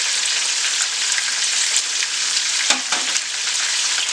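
Brined chicken parts fry steadily in a pan, giving a loud, dense, continuous sizzle close up, with a brief stir or shift of the pieces near the end and no talk.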